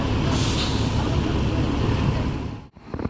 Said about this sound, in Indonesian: Kazana V41 unit eksekutif bus dari PO NPM.